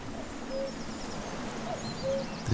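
Cuckoos call from the densely forested slopes of a quiet Scottish glen, their soft, faint two-note calls drifting in from a distance over a steady hiss of ambient background.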